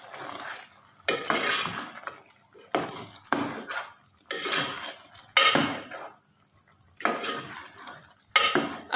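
Mango jam syrup stirred in a cooking pot, with repeated scraping strokes of a spoon against the metal coming in uneven bursts with short pauses, close and fairly quiet.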